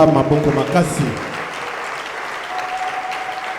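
A church congregation claps and cheers during a Sunday worship service, with a burst of applause and voices at the start that fades to a softer, sustained background crowd sound.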